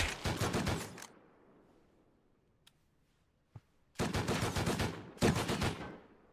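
Gunfire in the video game Rust, with a loud close burst of rapid automatic shots, a long quiet gap broken by two single sharp cracks, then two more dense rapid bursts.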